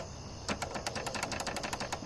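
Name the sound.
clicking a modded Mitsumi KAM keyboard switch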